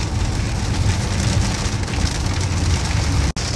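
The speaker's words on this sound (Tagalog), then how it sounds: "Sasalubungin namin yung ulan." Heavy rain pounds a moving car in near-zero visibility, a dense, loud, continuous hiss and drumming on the roof and windshield with low road rumble beneath, close and steady, with a brief dropout near the end.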